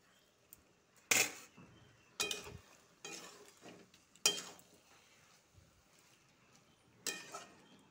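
A spoon stirs dal in a metal pot, sharp scraping clinks arriving in irregular bursts about a second apart, with quiet gaps between them and no voices.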